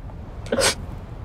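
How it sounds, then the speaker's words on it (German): A single sudden human sneeze, close and fairly loud, standing alone against quiet background hiss. "Entschuldigung für den Nieser"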